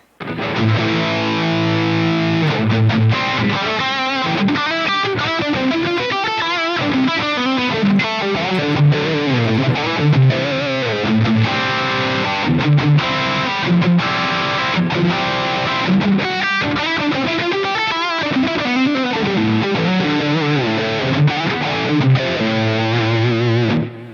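Electric guitar through a JCM800 amp plugin with gain set to 8, giving a fuzzy, loose, less percussive distorted tone over continuous riffing and chords, loud and dense throughout.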